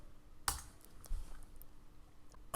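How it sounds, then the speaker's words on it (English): Computer keyboard typing a product search, heard as a few sparse, quiet key clicks with brief pauses between them in a calm room. "I'm going to type in Pregnancy"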